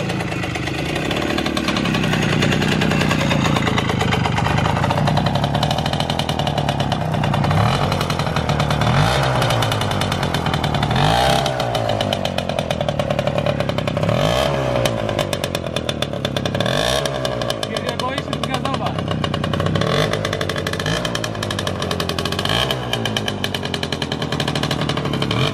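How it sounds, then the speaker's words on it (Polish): An old Romet Motorynka moped, a small two-stroke that has stood unused for years, runs continuously with a loud, buzzy close-up drone and periodic swells in revs. "Po tylu latach odpala normalnie. Bez czyszczenia gaźnika."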